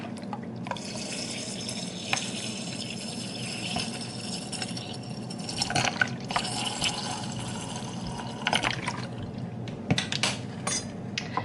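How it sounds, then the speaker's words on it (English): Apple cider vinegar is poured over herbs in a jar for fire cider, giving a steady, close splashing and trickling of liquid that runs the whole time, with a few small clinks and no talking. "All we do is cover these herbs with apple cider vinegar."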